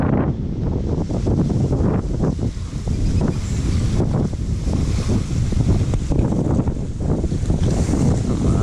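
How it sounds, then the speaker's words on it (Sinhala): Wind and lapping water at the bathing spot of Kabaroda reservoir near Udawalawa, a steady loud rush with gusty buffeting across the microphone and no talk. "අපි දැන් ඉන්නේ මේ කබරොඩ වැවේ තොටුපළ ළඟ."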